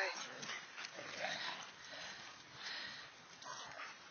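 Dogs in the snow sniff at close range with quick, soft snuffling breaths and occasional faint whimpers, heard over a low background hiss.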